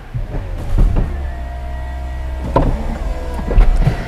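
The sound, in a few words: convertible roof mechanism opening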